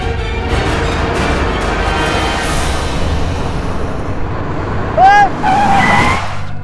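A car on a road skids and stops suddenly, with a rising tire squeal near the end over steady engine and traffic noise. Loud and close, with background drama music and no clear talk.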